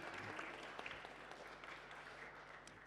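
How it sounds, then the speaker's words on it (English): An audience at a community event marking 50 years of diplomatic relations between New Zealand and Mexico applauds, with steady, moderately distant clapping that sustains evenly throughout. "Give him a round of applause."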